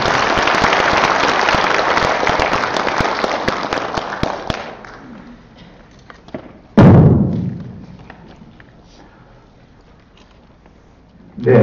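Dense applause from a conference audience at the opening ceremony of an international academic symposium on Buddhism and the Fourth Industrial Revolution, welcoming an education superintendent to the podium. It is steady and loud for about four seconds, then tapers off, followed by a sharp thud and another burst at the end.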